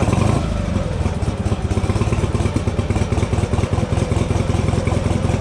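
A motorcycle engine running at low revs, close and loud, with a fast, steady mechanical throb and clatter throughout and no clear rise in pitch.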